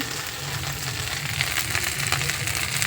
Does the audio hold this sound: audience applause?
no